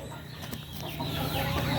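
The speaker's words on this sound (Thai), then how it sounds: "ไก่เด็กนั่นแหละครับ ตีกันนะครับ" Young fighting cocks sparring, giving soft clucks and scuffling noises close by, growing a little louder over a steady low hum of outdoor background noise.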